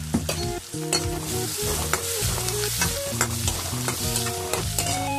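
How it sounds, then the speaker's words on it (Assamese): Onions frying in hot oil in a pan are stirred steadily, giving a continuous sizzle with frequent scraping strokes of the spatula throughout, close and fairly loud, with no talking. "মই এনেকৈ পিঁয়াজখিনি ভাজি ল'লোঁ"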